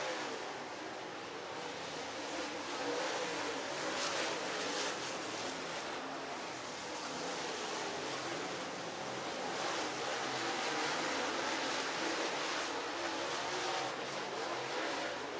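Race cars roar around Duck River Raceway Park as Brandon Overton's car 76 pulls away from Matt Cooper late in the Deep Fried 75. The engines make a steady, dense, somewhat distant drone that holds at a constant level the whole time, with no voices.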